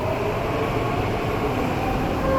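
Steady rumble of a train running through a Seoul subway Line 6 station, a continuous, fairly loud rail roar with no breaks and no talk over it.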